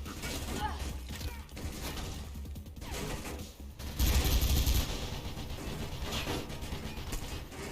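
Gunfire in the first-person game Mirror's Edge: bursts of automatic shooting with mechanical clatter, loudest in a dense burst midway, mixed with other game sounds.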